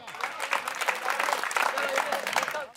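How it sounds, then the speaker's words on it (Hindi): An audience at a Hindi comedy poetry gathering claps in lively, uneven bursts, with crowd voices mixed in. "तेरा ताली वाली जोर से ठोको"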